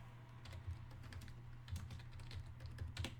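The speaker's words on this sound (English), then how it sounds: "I can't type." Typing on a computer keyboard from an awkward seated angle produces faint, quick bursts of key clicks in short irregular runs close by over a low steady hum.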